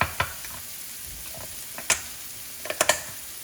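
Pasta and chicken in white sauce get stirred in a pan, with a faint background sizzle and several sharp clicks and taps of a utensil against the pan spaced unevenly.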